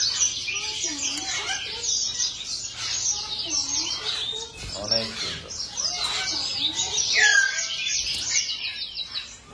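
Many caged birds chirp and tweet continuously at the Chatuchak bird market in Bangkok, a busy mix of bright calls close by, with a person speaking briefly over them.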